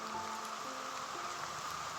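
Steady, faint rain patters on a surface, a soft continuous hiss with no voices.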